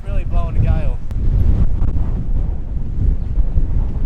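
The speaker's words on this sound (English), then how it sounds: "Jeez, it's really blowing a gale." Strong gale-force wind buffets the microphone in the bush, a loud continuous low rumble with gusts, while someone speaks briefly at the start.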